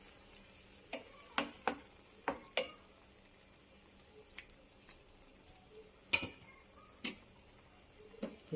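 An egg fries in a pan after being flipped, a soft steady sizzle broken by scattered crisp pops and spatters at irregular intervals, close and fairly quiet with no talk.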